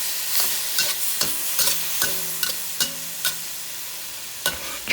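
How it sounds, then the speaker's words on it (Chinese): Shrimp and pineapple are stir-fried in a wok, a soft sizzle running underneath sharp, irregular scrapes and clanks of the spatula against the metal, close and without any voices. "翻炒一下，让虾吸收菠萝汁，让所有的食材充分入味。"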